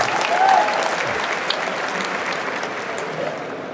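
Dense, steady applause from a large crowd at a political rally in Bangladesh, loud and sustained throughout, with a faint voice briefly audible near the start.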